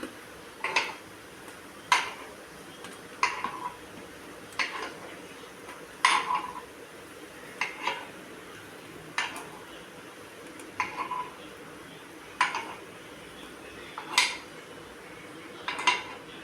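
Wheat paniyaram are lifted from a paniyaram pan onto a plate, giving about a dozen sharp metallic clinks and taps at a fairly even pace over a quiet, faint kitchen background.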